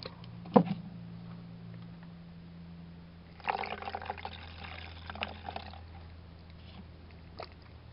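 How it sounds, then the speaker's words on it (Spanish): Rose water is poured into a small bottle for a homemade body spray. A soft trickling pour runs for a couple of seconds after a light clink, with a faint steady hum beneath and no talk. "Y ahora agregamos el agua de rosas."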